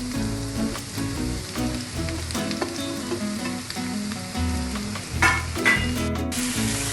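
Chopped button mushrooms with ginger paste sautéing in a pan, a close, loud continuous sizzle with repeated scraping stirs and clicks of a utensil.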